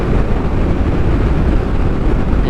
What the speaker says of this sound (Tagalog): Ayan, full throttle na tayo.